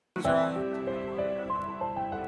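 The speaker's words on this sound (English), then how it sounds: "one of the many violins that I played" A single bowed string instrument plays a short, slow melodic phrase of sustained notes, alone and fairly close.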